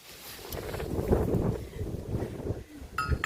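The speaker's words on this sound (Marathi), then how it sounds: "आता वारा काय अजिबातच कमी होत नाही" Strong wind gusts beside a river, rumbling and buffeting the microphone in uneven surges that rise and fall, fairly faint overall, with no clear voices.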